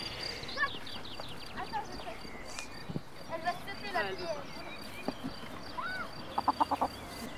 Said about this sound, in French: nous avons également des poules